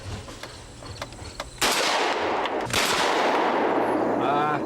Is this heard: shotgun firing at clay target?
yes